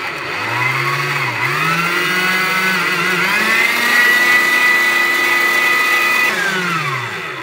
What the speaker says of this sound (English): Let's whisk it again, nice and slow, and then at high speed.